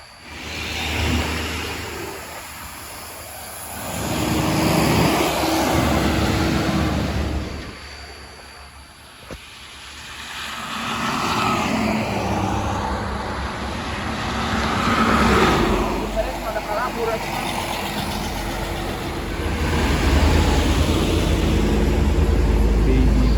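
A car being driven gives off a steady road and engine rumble that swells and eases in long waves, with voices talking over it.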